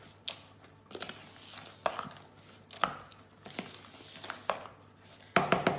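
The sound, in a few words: spoon stirring mixed fruit or chocolate into mixture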